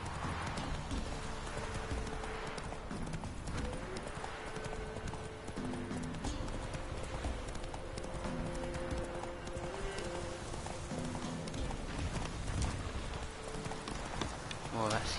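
Horse hooves clip-clopping at a steady gallop in The Witcher 3: Wild Hunt, a continuous rhythmic beat running the whole stretch beneath game music, with a voice talking over it.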